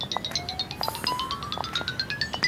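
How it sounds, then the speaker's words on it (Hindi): A mobile phone rings with an incoming call early in the morning in a Hindi television drama, its tonal melodic ringtone repeating clearly and steadily throughout, with no talk over it. "इस वक्त किसकी कॉल आ रही है सुबह सुबह?"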